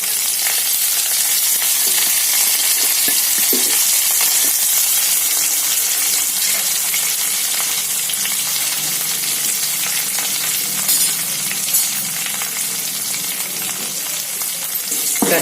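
Garlic, curry leaves and dried chillies fry in hot oil in a pan, giving a loud, dense, steady sizzle that runs unbroken throughout with a few faint stirring clicks.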